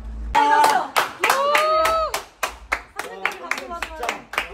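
Several people clap in short bursts, close and fairly loud, with animated voices talking and exclaiming over and between the claps.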